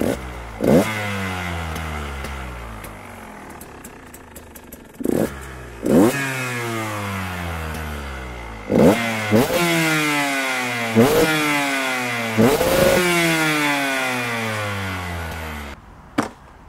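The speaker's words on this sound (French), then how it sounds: "je vais tout de suite vous montrer le bruit de l'ancien pot d'origine de la Husqvarna" Husqvarna 125 TX motorcycle with its original stock exhaust, revving hard in a series of sharp rising blips with crackling falls between them, loud and close with no talking.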